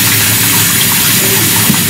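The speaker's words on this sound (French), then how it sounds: "Là, je suis en train de rincer l'appareil." Running tap water rinsing a facial skincare device, a loud, close, continuous gushing splash that fills the whole moment.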